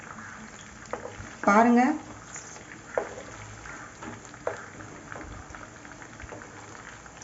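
Quail pieces fry in oil in a kadai over a medium flame, a steady low bubbling hiss running throughout, while a voice talks briefly over it.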